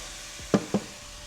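Garlic and shrimp sizzle in a pan at a steady low hiss, broken by two brief scraping stir sounds.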